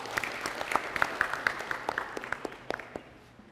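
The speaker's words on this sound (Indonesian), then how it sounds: "Mari kita beri tepuk tangan juga." Studio audience at an Indonesian family-themed television programme applauds, a steady patter of many hands with distinct individual claps standing out, gradually tapering toward the end.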